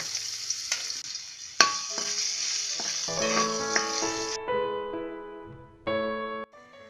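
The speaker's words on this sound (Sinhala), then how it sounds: "දැන් තෙල් රත් වුණ බඳුනට ඉඟුරු ටිකක් දාගමු." Ginger hits hot oil in a pan with a bright crackling sizzle, joined by scraping and stirring clinks, the fry fading and flaring as it is moved about; no talking.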